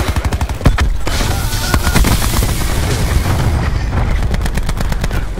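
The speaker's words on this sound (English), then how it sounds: "Cluster grenade going out." Cluster grenade explosions in Call of Duty: Black Ops 4, rapid bursts of loud overlapping blasts and gunfire-like cracks clustered at the start and end with a rumbling wash between, close and intense.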